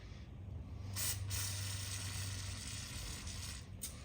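Aerosol lubricant sprayed onto a bicycle tubeless valve stem: two short hissing bursts, the first lasting a few tenths of a second and a briefer one near the end, over a faint steady mechanical background.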